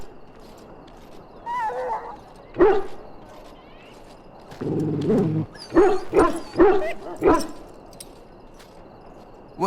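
A dog in the Dragon Age Origins video game gives several short, sharp barks and whimpers between stretches of quiet, close and fairly loud, with other game sounds mixed in.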